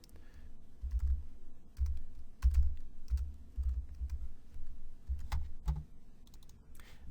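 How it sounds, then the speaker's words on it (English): Bursts of close keystrokes clatter on a computer keyboard while an IP address is entered, quick clicking runs separated by short pauses, crisp and fairly quiet with no talking. "I would go ahead and type in what is the public IP address for my on-premise network"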